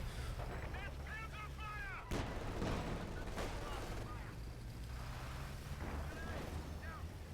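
Battlefield combat in the WWII strategy game Company of Heroes 2: a sharp grenade blast cuts through steady rumbling gunfire and distant shelling, with a commentator's voice talking over the action.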